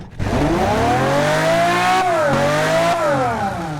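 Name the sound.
car engine revving in video game Automation/BeamNG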